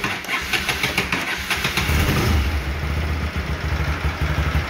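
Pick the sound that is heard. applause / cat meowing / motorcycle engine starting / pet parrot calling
motorcycle engine starting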